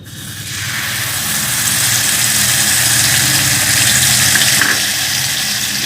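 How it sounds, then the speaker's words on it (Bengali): Stone-ground mustard paste goes into hot oil with fried spices for a pabda fish curry, building at once into a loud, close, steady sizzle that holds throughout without talk. "শিলে বেটে নেওয়া সর্ষে এই তেলের ভেতরে অ্যাড করব"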